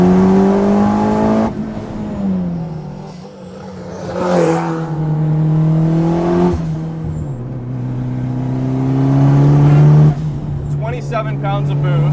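A 440-horsepower turbocharged all-wheel-drive Mitsubishi Eclipse GSX revs hard from the cabin, its exhaust rising and falling through several throttle blips with turbo whine, while someone talks over the engine.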